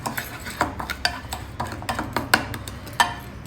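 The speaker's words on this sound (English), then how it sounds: "Mix all these spices well in the oil." Ground spices being stirred into oil in a pan with a spoon, a string of light scraping and clinking taps against the metal in an irregular rhythm, close and fairly clear.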